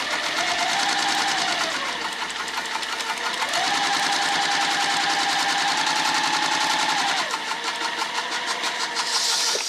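A sewing machine runs long basting stitches along the outer edge of a Hendrix bag, a loud, continuous rapid whir with speed shifts, pausing briefly before picking back up.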